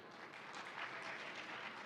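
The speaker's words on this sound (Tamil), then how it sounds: "இது கூடுதலா கைத்தட்டல் வரும் எப்பவுமே" An audience claps after a line of recited Tamil poetry, a soft, steady patter of many hands from a distance, continuing evenly without voices.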